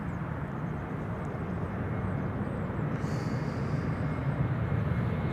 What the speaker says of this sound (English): This is KLM Flight 1774, arriving from Berlin, Embraer 175.